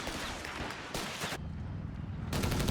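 Company of Heroes 3 battle with dense rapid machine gun fire in continuous loud bursts, mixed with booming blasts and gunshots, no talk heard.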